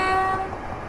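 A Class 375 electric train running on the Chatham Main and Medway line in the Train Sim Classic game, giving a loud, steady run with a sustained tonal whine over a low rumble that eases slightly partway through.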